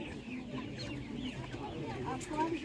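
Several young broiler chickens and cockerels cluck and murmur continuously amid busy outdoor market noise, moderately close.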